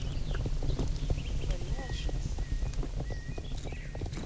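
A pony's hooves clip-clop in the video game Star Stable Online, a steady walking rhythm of light hoof beats under game ambience with birdsong, while a person talks over it.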